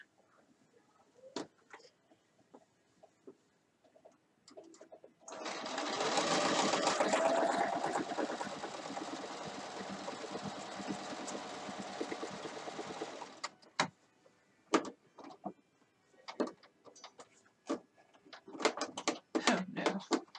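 A sewing machine runs in a steady whirring burst of about eight seconds, loud and close, with quieter clicks and handling noises before and after.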